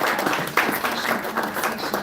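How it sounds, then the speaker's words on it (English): A conference audience applauds its panelists at a carbon credit market event, a steady, dense patter of many hands clapping together, close and loud throughout the short span with no voices over it. "Please, a round of applause for our panelists."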